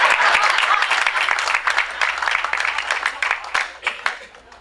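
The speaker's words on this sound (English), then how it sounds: "you clap for the governor" An audience at a governor's office award ceremony breaks into loud, close applause that thins into scattered individual claps toward the end.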